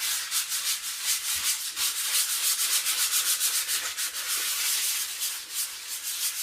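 Sandpaper rubbed back and forth over chalk-painted wood furniture in quick repeated strokes, a steady scratchy hiss heard up close with no speech.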